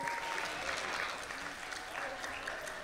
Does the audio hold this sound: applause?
yes